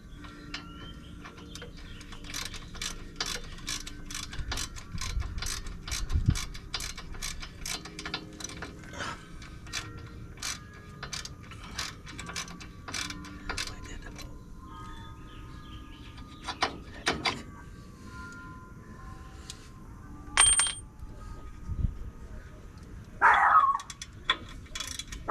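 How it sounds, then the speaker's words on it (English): Ratchet clicking in quick bursts while a brake caliper is removed from a vehicle, sharp rapid ticks in runs with pauses, a few clanks and tool handling sounds between them, fairly quiet and close. "Okay, let's pull the caliper."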